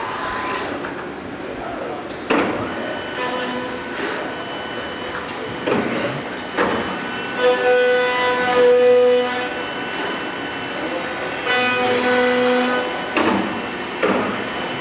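A 990 APEX machine cycling in auto start mode gives off steady mechanical whirring with irregular clunks and actuator bursts, plus a brief sustained tone partway through, all fairly loud and close.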